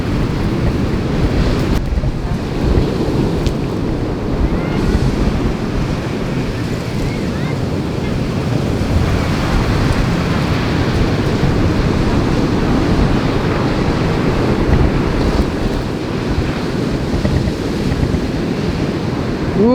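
Surf rolling onto Fort Ilocandia Beach in Laoag, Ilocos Norte, Philippines, a steady loud roar of rough ocean waves with wind buffeting the microphone throughout.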